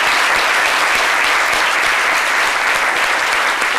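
Loud, dense applause from a large television audience at a special broadcast of The Voice Afrique Francophone, a steady roar of clapping that holds at full strength without a break and without any voices over it.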